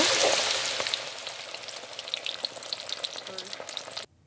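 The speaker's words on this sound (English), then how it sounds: "And then we're going to fry it in the oil." Headed and gutted eulachon smelt dipped in tempura batter crackle and sizzle in hot oil, a loud initial burst of frying that settles into steady popping and spitting before cutting off abruptly.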